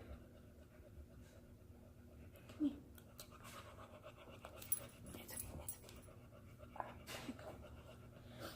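A dog pants and snuffles quietly nearby, soft breathy rhythms with a few small thumps and rustles in a hushed room.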